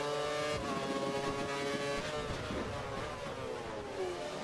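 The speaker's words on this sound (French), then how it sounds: "attaque la Mercedes de Tom et passe au freinage" Race car engines from an F1 video game, with a Mercedes braking and overtaking at a Spanish circuit, produce a steady, buzzing high-revving whine with shifting pitch, moderately loud and without talk.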